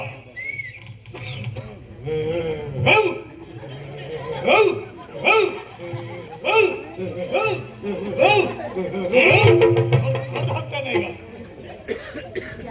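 An actor in a stage comedy by the Maranakatte troupe imitates a dog with a run of loud, voiced barks that come in bursts about once a second, over a steady low drone with other voices nearby.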